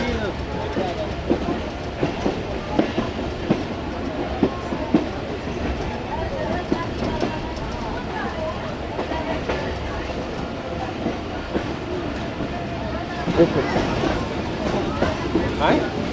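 Musa Pak Express railcar moving slowly from a loop line onto the main line, a steady rumble with rhythmic wheel clicks and rattling from inside the carriage, continuous throughout.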